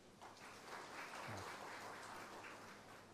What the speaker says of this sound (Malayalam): ബഹുമാനപ്പെട്ട ഉമ്മൻ കെ ജേക്കബ് അച്ഛനും ആ ഗാനം വളരെ മനോഹരമായി ഇവിടെ ആലപിച്ച ഗായക സംഘത്തിനും നല്ലൊരു കൈയടി കൊടുക്കുക